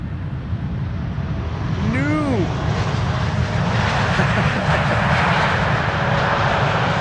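Jet airliner arriving at Amsterdam Schiphol Airport, a loud broad engine roar swelling steadily as it passes close overhead, with a brief rising whine early on; a voice is heard faintly beneath the noise.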